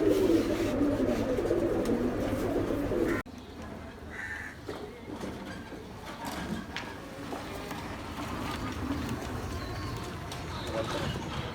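Pigeons in a breeder's loft coo softly and repeatedly, with people talking over them throughout.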